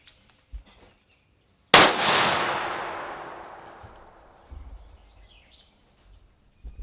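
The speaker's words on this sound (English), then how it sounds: "we'll let him shoot it a couple times" A scoped rifle fires one loud, close shot while being sighted in outdoors, followed by a long ringing decay that fades over several seconds, with a few faint knocks and a brief bird chirp afterward.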